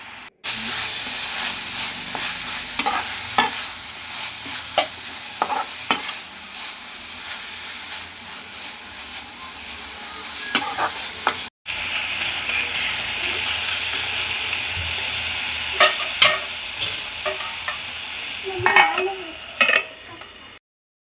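Amaranth leaves with tomato pieces are stirred in a pan during outdoor cooking, with intermittent clinks and scrapes of utensil on metal over a soft steaming hiss and a brief cut midway.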